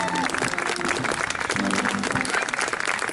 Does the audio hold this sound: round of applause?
yes